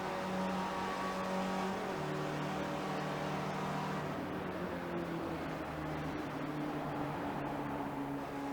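Race car engines drone steadily in a sim racing game at Canadian Tire Motorsport Park, a continuous mechanical hum with shifting pitch and no clear passes, fairly faint overall.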